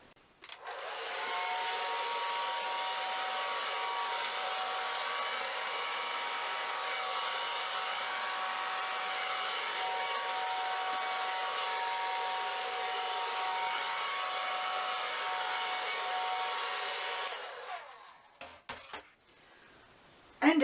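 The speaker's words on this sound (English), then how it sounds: "Ready to go with my blow dryer." A blow dryer roars steadily and close for about seventeen seconds, pushing an acrylic paint pour across a canvas, then cuts off, followed by a few clatters.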